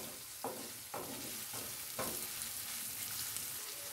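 Rice and peppers sauté together in a pan. A constant crackling sizzle is broken by a few sharp scraping stirs roughly every half second early on, then settles into an even fry with no talking.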